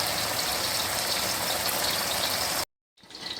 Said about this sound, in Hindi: लहसुन का पानी है जिसको मैंने लहसुन डाल के बॉयल किया